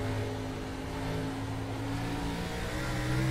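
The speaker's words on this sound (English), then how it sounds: "But listen closely to the engine note. Very easy back on the throttle" Race car engine at Nashville Fairgrounds held at an easy, steady part throttle, a continuous droning note with a faint rise near the end, loud and alone with no talk.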